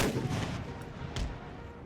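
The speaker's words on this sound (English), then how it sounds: "Cannons keep firing." Cannon artillery fire from the Empire: Total War battle game, a steady rumbling barrage with two sharper booms standing out partway through, loud and dense with no speech.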